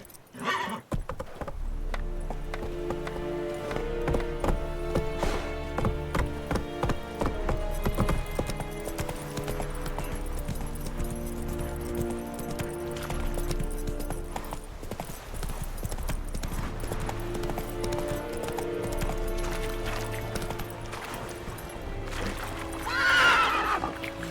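Roach, a horse in The Witcher 3 video game, trots with steady clip-clop hoofbeats and lets out a loud whinny near the end, all over continuous orchestral game music.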